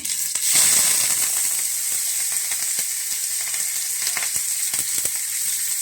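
Cumin, mustard seeds and curry leaves sizzle steadily in a hot pan, a continuous crackling hiss with scattered small pops, fairly close and alone without talk.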